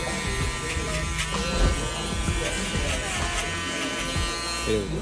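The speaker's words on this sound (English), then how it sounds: "you can hit it with the shaver" An electric shaver buzzes steadily up close while cutting a mid fade haircut, its whine shifting slightly as it moves, with faint voice sounds underneath.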